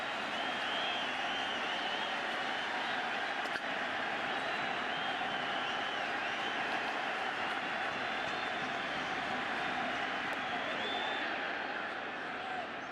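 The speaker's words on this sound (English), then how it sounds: "the crowd showed up" A large crowd at a 2009 World Series baseball game between the Phillies and Yankees roars in a dense, continuous wash of cheering that stays loud throughout, with a broadcaster's voice faintly mixed in.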